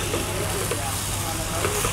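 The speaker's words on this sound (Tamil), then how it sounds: "உப்பு கொஞ்சம் போட்டு நல்லா கிளறி விட்டுக்கோங்க." Goat boti sizzles in a pan as it is stirred with salt added, a steady close frying hiss with faint clinks of stirring throughout.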